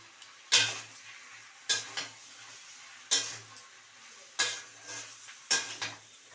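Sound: stirring salt and sugar into shrimp and spring onion curry

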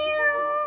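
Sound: person imitating a cat's meow

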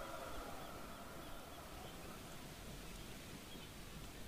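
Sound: rushing of the sea or sand in video game Jusant

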